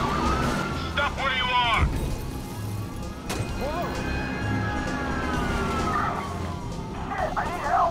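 A police siren wails and sweeps in the Watch Dogs video game, rising and falling behind crash noises while someone speaks over it.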